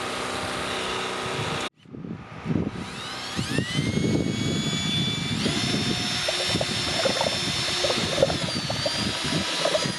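A generator engine starts up after a brief pause and then runs steadily with a rising whine and a constant mechanical rumble, fairly loud and close, powering a Graco X7 paint sprayer.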